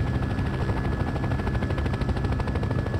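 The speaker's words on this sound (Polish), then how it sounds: "dźwięk pracy tego helikoptera" Steady, heavy engine roar from a helicopter flying in the farming game Farming Simulator 15, with a rapid chopping rotor pulse running continuously at close range and no voices.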